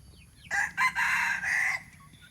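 A hybrid junglefowl crows once in the morning, a clear broken call in several segments that stands out against quiet outdoor background.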